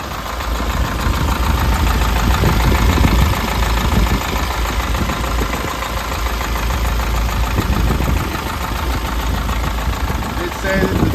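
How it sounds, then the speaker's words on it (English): A Chevrolet W4500 cabover truck engine idles loudly and steadily with a constant rumble and turbo whine, and someone talks over it throughout. "I did say that the turbo makes a bit of noise on this"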